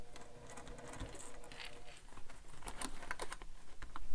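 A sewing machine runs slowly, stitching bag fabric around curves, with short bursts of rapid needle ticking and brief pauses; it's fairly quiet and close, gradually getting busier.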